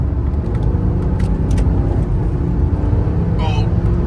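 A twin-turbo 4.4-litre V8 BMW under way, heard from inside as a loud, continuous engine drone and road rumble with a brief higher whine near the end.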